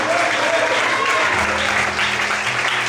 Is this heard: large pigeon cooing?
no